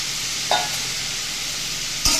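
Salted fried potatoes go into cabbage in a hot pan, which gives a steady, even sizzle with two brief clatters of ingredients and utensil hitting the pan.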